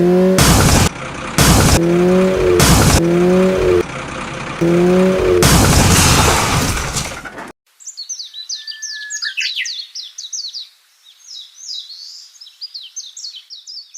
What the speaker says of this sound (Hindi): मैंने पहले टक्कर मार दी।